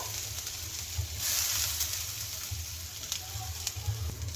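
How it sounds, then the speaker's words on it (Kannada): Sabudana tapioca pearls fry in ghee in a pan for carrot sabudana kheer, giving a continuous close hiss and sizzle over a low rumbling hum. "ಅದನ್ನು ಸಬ್ಬಕ್ಕಿನ ಹಾಕ್ಕೊಂಡು ಒಂದು 2 ನಿಮಿಷಗಳ ಕಾಲ ಫ್ರೈ ಮಾಡ್ಕೋಬೇಕು"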